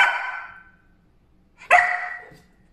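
A puppy gives two barks, a drawn-out yelp and then a second sharp bark after a short pause, both loud and close with no other sound.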